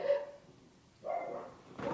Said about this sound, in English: Sorry, Benji started barking.